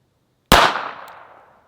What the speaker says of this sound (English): You're shooting low.